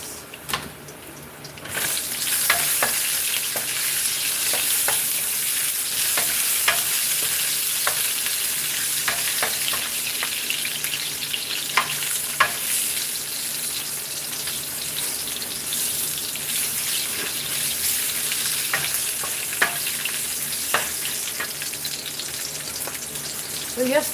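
Onions frying in a pot for a budget chicken stew crackle in a continuous close sizzle, with occasional stirring clicks and light water noise in the background.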